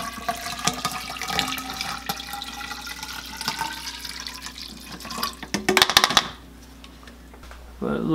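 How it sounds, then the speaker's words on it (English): Bottled water is poured into a measuring container, a close splashing trickle that runs for several seconds and then stops, followed by quiet and a brief handling sound. "I'm gonna pour it in here and we'll see how much water we have."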